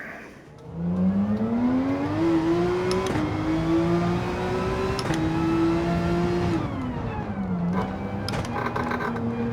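A Porsche Carrera racing car in Gran Turismo 7 pulls away with a loud, steady engine note that climbs through the gears, with brief dips at each upshift and a short lift near the end before pulling again.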